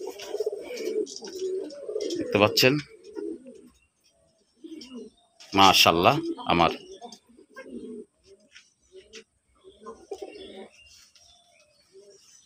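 Pigeons in a home loft coo and chirp in a few loud close bursts separated by quiet gaps, with someone talking in between.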